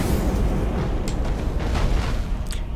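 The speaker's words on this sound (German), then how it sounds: "Da explodieren die Bomben" Bombs detonate in the space combat game Battlefleet Gothic Armada, producing a continuous loud, deep rumbling roar with a few brief crackling bursts layered on top.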